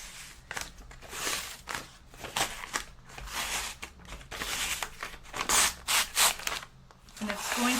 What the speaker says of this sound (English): it's going to tear away around my design